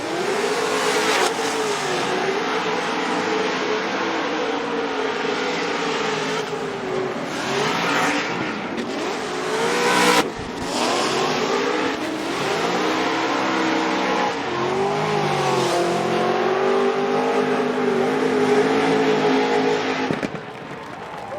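A Formula Drift race car engine at Irwindale roars and revs continuously, pitch rising and falling through sustained high-revving passes, loud and close with crowd noise beneath.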